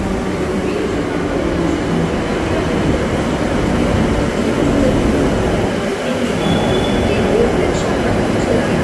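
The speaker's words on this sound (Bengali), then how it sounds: "Metro coming." A Kolkata metro train pulls into the station with a loud, steady rumble of wheels and motors that fills the whole clip, with station ambience and faint voices underneath.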